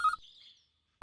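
A telephone rings in a dubbed South Indian action film: two short bursts of electronic ringing separated by a brief gap with a fading tone, clear and close, no talk.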